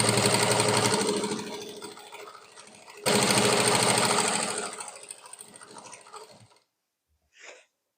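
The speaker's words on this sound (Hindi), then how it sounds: "सिलाई बेल्ट के ऊपर से करेंगे, कपड़े पे सिलाई नहीं करेंगे।" A sewing machine stitches along a saree belt in two fast, rattling runs. Each starts loud and slows as it fades, then a brief small click follows after a pause.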